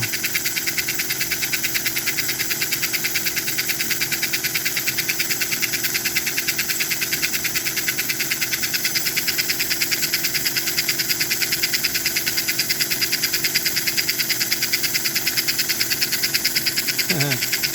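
An American Flyer 287 model train locomotive runs with its smoke unit on, giving a steady buzzing motor hum and a rapid rhythmic clatter that stays even and close throughout, with no voices.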